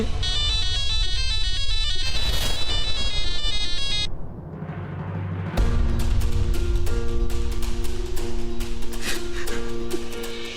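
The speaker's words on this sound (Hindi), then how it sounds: "सृष्टि जी प्लीज फोन उठाइए ना।" A melodic electronic ringtone chimes in a repeating pattern, pauses briefly, then resumes with a steady tonal jingle, loud and close.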